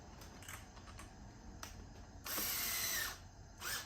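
A screw on a Begode EX30 electric unicycle mainboard is tightened in a few short mechanical whirring bursts, one longer than the others, over a faint background hum.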